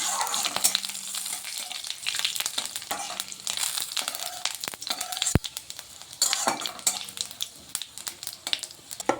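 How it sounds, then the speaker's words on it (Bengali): Bengali five-spice seeds crackle and sizzle in hot oil, with frequent scraping and clinking of a spoon against the pan throughout. "5 ফোড়নটাকে ভালোভাবে ভেজে নিচ্ছি।"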